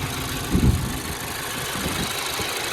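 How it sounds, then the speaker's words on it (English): A 2016 Mazda 3 four-cylinder engine idles with a cylinder 2 misfire, a close, steady mechanical hum broken by a brief louder knock-like thump early on, with no talk. "the scanner says we have a cylinder number 2 misfire"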